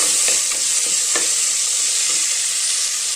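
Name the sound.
sautéing onions in a pan for radish gravy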